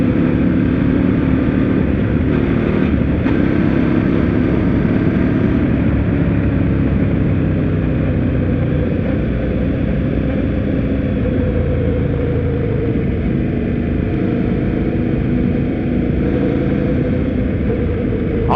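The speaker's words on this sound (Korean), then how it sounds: "근데 이거 배기음이 좀 아쉽다." An Indian Scout Bobber motorcycle's engine and exhaust run as a steady, loud, unbroken drone mixed with wind rush while riding, holding an even level throughout with no talking.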